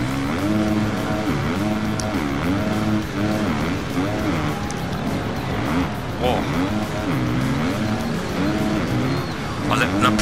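Motocross bike engine from the Monster Energy Supercross video game, a continuous revving whine rising and falling with throttle changes throughout, steady and loud, with commentary spoken over it.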